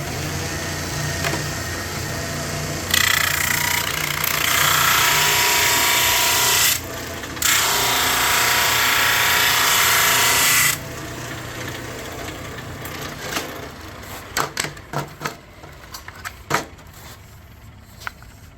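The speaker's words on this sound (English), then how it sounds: "I'm gonna go ahead and drum sand them so they're exactly the same" A drum sander grinds steadily across wooden panels for several seconds, a loud broadband rasp that stops briefly, resumes, then cuts out into faint clicks and handling noise.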